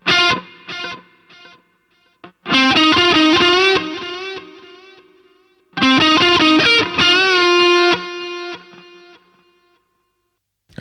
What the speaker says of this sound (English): Let's play it so you can just hear the delay